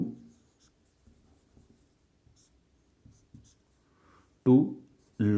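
Pen or marker strokes on a surface during a maths lesson on integration, faint and sparse scratches in a quiet room, followed by a voice speaking near the end.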